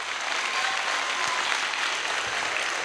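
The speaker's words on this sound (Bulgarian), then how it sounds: "Затова нека да му ръкопляскаме." An audience at a New Year Christian concert claps in sustained, dense applause throughout, a continuous wash of many hands with no talk over it.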